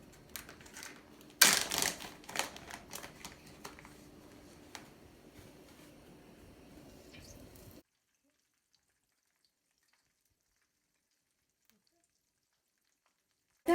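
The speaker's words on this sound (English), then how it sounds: "after deep frying them, have a look how beautiful these samosas they look" Beef keema samosas deep fry in oil with dense crackling sizzle and popping, loudest in a brief burst near the start and then a steadier bubbling, before cutting to near silence.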